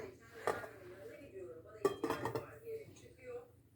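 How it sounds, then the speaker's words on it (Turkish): A metal lid clanks onto a pot of yogurt and wheat soup with a couple of sharp clinks and rattles, close by, against quiet room background. "Kapağını kapatacağım arkadaşlar."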